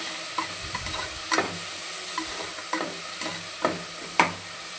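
Soaked rice fries in a pan with a steady close sizzle, broken by several sharp scrapes and knocks as a utensil stirs it at irregular intervals.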